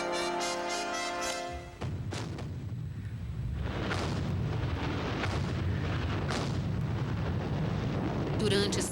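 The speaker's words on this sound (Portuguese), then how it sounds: "a artilharia inglesa pulverizou as trincheiras alemãs" British artillery bombarding German trenches in a historical documentary: repeated heavy booms and rumbling blasts follow one another over a dense, continuous roar.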